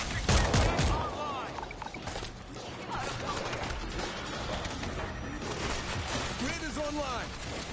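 Gunfire in the zombie shooter World War Z Aftermath, New York level: a burst of rapid shots at the start followed by scattered bangs and game clatter, with a voice speaking over much of it.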